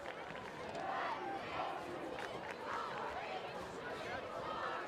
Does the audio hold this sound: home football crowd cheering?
yes